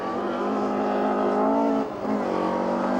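Rally car engine held at high revs, a loud, steady close-range roar that dips briefly and then climbs again.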